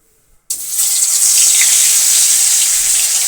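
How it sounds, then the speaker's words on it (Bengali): Large fish chunks dropped two or three at a time into hot oil in a kadai: after a brief silence, a sudden loud, steady hissing sizzle bursts in and holds, close up. "এখন আমি একে একে দুটো তিনটে করে মাছ ভাজবো"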